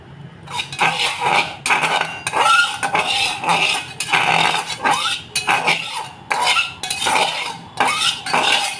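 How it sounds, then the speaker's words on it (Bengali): A spoon scrapes and clanks against a cooking pot while masala khichdi bhog for Jagannath is stirred, rhythmic bursts of metallic scraping and clinks repeating roughly every second, close and fairly loud, no talking. "এবার আমি একটু জগন্নাথ বাবার ভোগটা ছিল সেটা আমি একটু নেড়ে নিলাম ভালোভাবে।"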